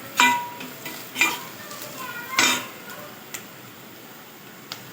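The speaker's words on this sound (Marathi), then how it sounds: "सर्व मिश्रण एकजीव करून परतून घेऊ" An egg biryani masala mixture with turmeric being sautéed and stirred in a pan, with three or four distinct scraping strokes of a spoon over a soft, steady sizzle and a couple of faint clicks.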